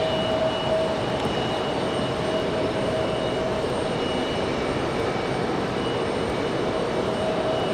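An Icelandair Boeing 737 MAX jet touches down at Raleigh-Durham International Airport at night, a steady broad engine roar with a faint tonal whine holding level throughout, no voices.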